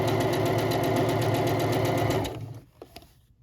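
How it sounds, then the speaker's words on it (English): A sewing machine stitches napkin fabric with a fast, even mechanical whir and rapid needle chatter for about two seconds, then slows and stops, leaving a few soft clicks and handling sounds. "I'm going to lift up the presser foot, pivot, and then keep on sewing."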